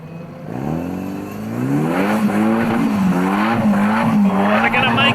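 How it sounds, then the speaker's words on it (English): A Nissan-powered modified 4x4 truck works through a hazard course at a Suzuki Cup off-road event, its engine revving and wavering in pitch as it climbs and strains, loud and close, with a commentator talking over it. "Nissan-powered modified truck."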